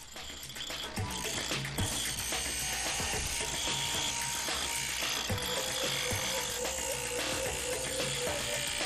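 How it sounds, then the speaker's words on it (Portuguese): Diamond-bladed tools carve granite while replica Ancient Egyptian sceptres are being made, giving a dense, continuous grinding and buzzing roar with rapid gritty rattling. It stays loud and steady throughout, with no voices. "Eles talham o granito com lâminas de diamante para obter um bom acabamento."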